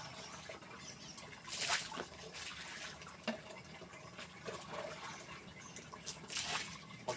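Water poured onto soil and seeping down through it, a continuous trickle with light splashy pattering that swells in brief surges.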